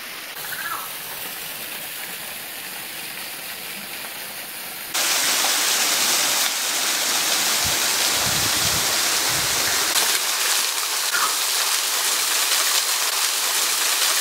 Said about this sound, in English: Just having a quick detour here to Robin Falls. Well, we found the falls right at the end of this little track.